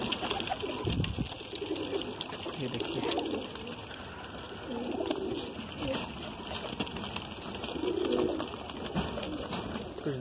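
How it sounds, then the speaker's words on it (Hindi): Green pigeons coo in soft, low repeated phrases, several birds close by, under a steady background hum with occasional faint voices. "ये सारे हरे कबूतर है जो मेरे स्पेशल जो मुझे बहुत पसंद है"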